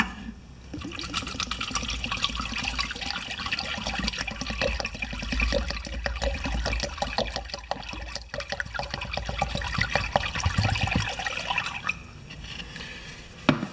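Liquid poured from a container into a generator whose bottom is plugged with electrician's tape, a steady close splashing and gurgling trickle running continuously for several seconds.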